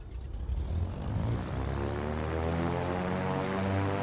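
Twin piston engines of a Milviz Cessna 310R run up to full throttle in Microsoft Flight Simulator, a steady loud propeller drone with rising harmonics that holds evenly throughout.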